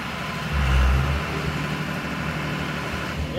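A tractor engine idles at a corral, a low steady rumble that swells briefly near the start and then settles into a constant background drone.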